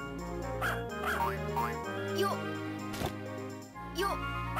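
A dog in the Harvest Moon farming video game gives several short barks and yips over steady looping game music.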